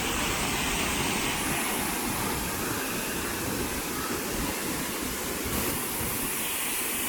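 Sawdav waterfall in Kankavli, Sindhudurg, swollen after heavy rain, roars as a dense, steady wall of rushing water. It is close and loud and unbroken for the whole stretch, with no voices.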